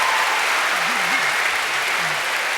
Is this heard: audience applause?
yes